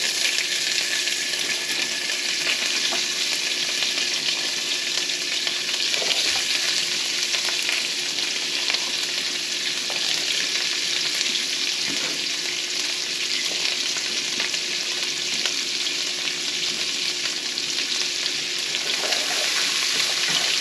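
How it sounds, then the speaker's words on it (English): Asparagus fries in leftover bacon grease in a pan, a continuous close crackling sizzle with occasional stirring clicks, steady and loud with no voices. "we're just going to leave that bacon grease in there, and we are going to add in our asparagus"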